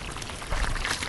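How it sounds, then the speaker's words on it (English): Water poured from close by into a planting hole dug in deep mulch in a back-to-eden style tomato garden, a steady broadband gush lasting about a second with no talk. "fill the hole up with water"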